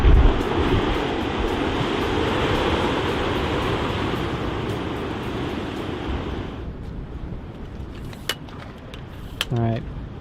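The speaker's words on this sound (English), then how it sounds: "the rugged cliffs and crashing waves were still quite spectacular" Surf crashing against the rugged coastal cliffs at Pancake Rocks in Paparoa National Park on a grey day, a broad steady roar with wind noise that drops away after about seven seconds, followed by a few brief faint sounds.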